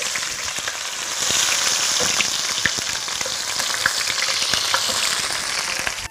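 Onions frying in oil for egg biryani, a dense, steady crackling sizzle with stirring scrapes, close and loud throughout with no talk.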